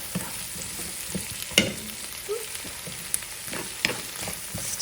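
Poblano peppers and onion frying in a pan for poblano soup, giving a steady low sizzle with occasional stirring scrapes and clicks, close and fairly quiet, with no talk.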